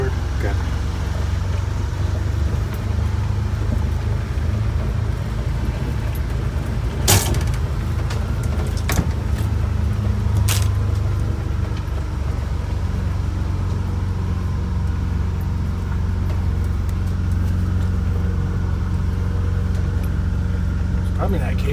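Vintage Scenicruiser bus engine held at full throttle, a steady loud low drone filling the cabin with a few sharp clicks and knocks, while people talk over it.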